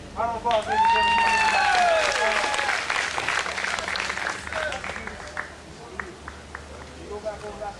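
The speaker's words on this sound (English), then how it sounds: "Round of applause, ladies and gentlemen." Crowd applause at a convention gathering in Hawaii, clapping rising under a loud amplified voice and drawn-out musical tones, then thinning to scattered claps toward the end.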